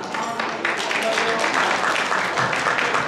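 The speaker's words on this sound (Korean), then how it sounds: "박수로 한번 환영해 주시기 바랍니다." An audience at a hometown association New Year gathering and general meeting applauds to welcome a council member, a dense wash of clapping that runs the whole time with some voices mixed in.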